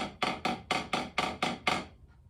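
Drum buzz roll played with an overly tight grip: six short, choked bursts in an even rhythm, each cutting off quickly rather than sustaining, close and moderately loud, with no talk.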